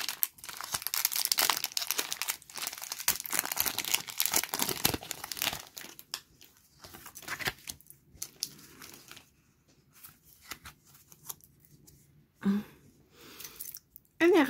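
A Pokémon card packet is torn open, its foil wrapper crinkling and rustling loudly and close for several seconds, then quieter handling with sporadic rustles.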